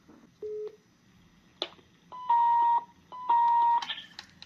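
Keypad tones on an Intelbras CIP 850 electronic intercom as a number is dialed, three short distinct pitched beeps separated by pauses, followed by longer steady tones and faint clicks, close and clear.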